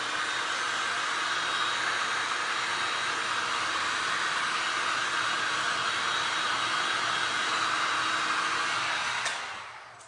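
A hair dryer blows steadily for about nine seconds while drying a glass and resin art piece, giving a loud, even, hissing whoosh with no talk, and then it is switched off and winds down at the end.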